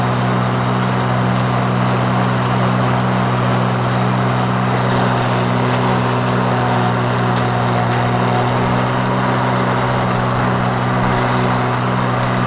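A tractor-drawn farm mower cuts first-cutting hay in the corners of a Michigan field, its engine droning loud and steady with a constant low hum and rattling machinery throughout.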